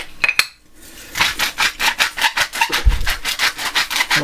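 A pepper grinder cranks out black pepper in a quick run of about a dozen evenly spaced gritty grinding rasps, loud and close, after a couple of short clicks at the start.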